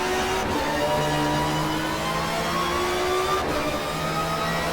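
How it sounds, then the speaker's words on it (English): A front-mounted Ford V6 touring car races in the 1993 GTR2 Touring Car World Cup, its engine loud and continuous, rising and falling in pitch through gear changes and acceleration for nearly five seconds. "Beautiful sounding car, the Ford."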